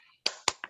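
Children in a classroom clap their hands in three quick, sharp claps with a short ring after each, close by and on their own.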